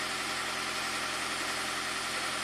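A Toyota Prius engine idles after a head gasket repair, still a little rattly, giving a continuous even hum with slight vibration, close and unbroken throughout.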